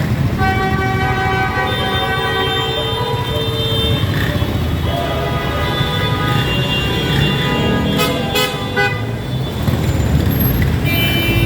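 Rainy road traffic in Manila near Doroteo Jose LRT station, a steady dense drone of engines with repeated horn toots sounding close and loud, bursts clustering toward the end.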